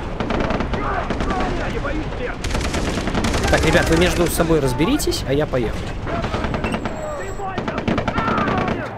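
In Far Cry 3 gameplay, bursts of automatic gunfire and rattling shots crackle nearly continuously, loud and close, while someone talks over the shooting.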